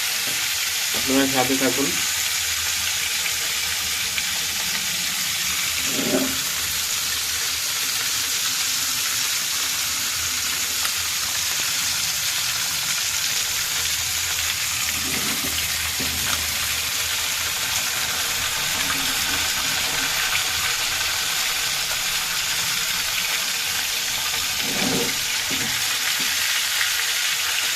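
Tilapia fish frying in hot oil, a steady bright sizzle running throughout with a few soft stirring clinks and a brief voice heard at one point.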